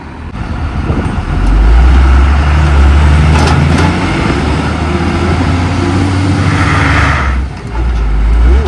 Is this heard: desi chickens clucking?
no